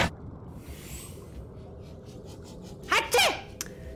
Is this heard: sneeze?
yes